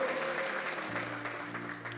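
A church congregation gives steady, lively applause during a worship service, many hands clapping together at moderate loudness over held organ-like tones.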